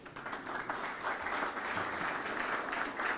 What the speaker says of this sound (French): Je veux votre applaudissement.